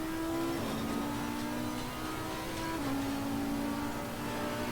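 Audi race car engine in the racing game Assetto Corsa Competizione, a steady sustained drone holding a high pitch with small gear-shift steps, moderately loud and alone without speech.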